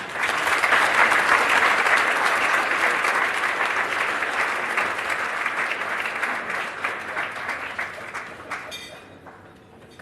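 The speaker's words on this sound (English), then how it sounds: "Give him one more round of applause." Steady, dense applause from a large audience, loud at first and gradually thinning out and fading toward the end.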